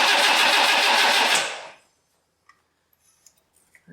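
A 1962 AMC Rambler engine cranks loudly and close for about a second and a half, a rapid rhythmic churning that cuts off abruptly, followed by near silence with a few faint clicks.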